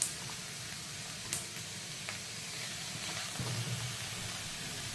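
Paneer cubes frying in a pan, a soft, even hiss of sizzling oil throughout, with a few faint clicks of utensils.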